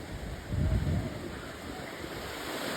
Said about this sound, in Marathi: लाटा खूप वाढलेल्या आहेत की आतमध्ये जायचं नाही